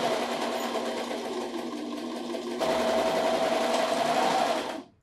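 A serger runs steadily, stitching the center back seam of a knit cardigan's neck band, a loud continuous whir with one brief shift partway through before stopping abruptly near the end.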